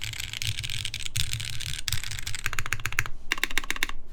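Someone types quickly on a custom mechanical keyboard with bright keycaps. The keystrokes are close and moderately loud in dense rapid bursts, neither muted nor harsh, with a brief pause near the end and no talking.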